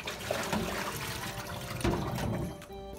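Napa cabbage is lifted out of a basin of soaking water in a kitchen, with close, continuous splashing and trickling that swells briefly near the end.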